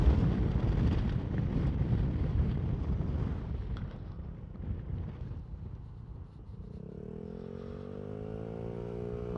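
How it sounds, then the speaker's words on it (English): Steady wind buffeting a GoPro on a suction mount on a motorcycle ridden on a road in Derbyshire, loud and roaring at first and then easing, with a low engine drone showing beneath it near the end. "if that wind wasn't bad"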